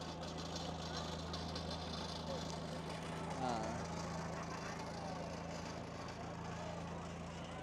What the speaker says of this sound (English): He's got a nice vintage tractor here. Looks like an old Farmall tractor.